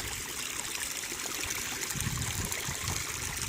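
Water trickling and splashing steadily down a pondless garden waterfall into a hidden holding tank, a continuous close babbling flow with no voices.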